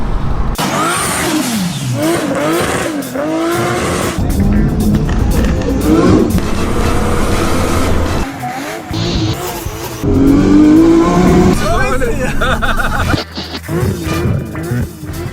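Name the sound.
car engine revving on a highway pull at night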